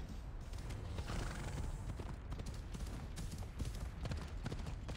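Horse hooves clip-clopping in the Assassin's Creed Odyssey video game, a steady run of close, even hoofbeats set against a constant wash of game background noise, with no talk heard.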